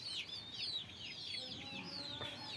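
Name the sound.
hen and chicks clucking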